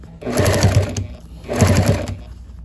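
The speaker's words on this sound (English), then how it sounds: "keep sewing right to this point and make sure I turn at the 1/4 of an inch" A sewing machine stitches a fabric face mask in two bursts of steady, rapid mechanical whirring, separated by a short pause, close and fairly loud.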